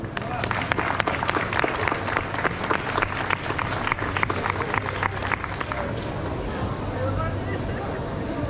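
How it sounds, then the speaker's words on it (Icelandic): A crowd applauds with dense, steady clapping for several seconds, then the clapping fades into murmuring voices. "Gefið þau gott klapp öll."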